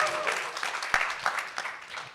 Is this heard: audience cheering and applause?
yes